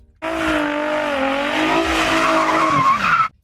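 Tires of an automatic Infiniti G35 squealing in a sustained skid while drifting, a loud continuous screech with shifting pitch lasting about three seconds before cutting off.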